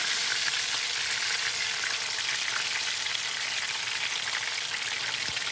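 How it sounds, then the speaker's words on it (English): Steady, dense sizzling of chicken frying in a hot pan, crackling and popping continuously at close range with no talking. "this is the chicken frying nicely"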